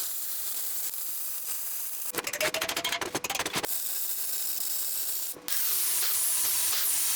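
Grinder cutting a bevel into a 3/16-inch steel skate for a homemade road grader, a harsh, close, stuttering burst of about a second and a half between quieter stretches of steady background noise.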